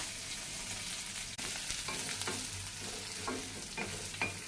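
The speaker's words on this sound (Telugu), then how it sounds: "మనం ఉల్లిపాయలు వేసుకోవాలి ఫ్రెండ్స్." Onions and curry leaves fry in a pan with green chillies for aloo fried rice, giving a steady close sizzle broken by several scraping stirs, with no talking.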